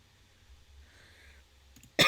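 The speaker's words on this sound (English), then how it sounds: "Damn it, the coughing. It's back." A person who is sick lets out a single sharp cough at the very end, after a near-silent pause with only a faint low hum.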